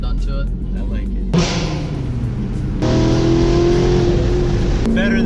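A stock Chevrolet Camaro ZR1 engine revs and accelerates hard with a loud, rising roar, its pitch climbing through gear changes and heard from inside the car.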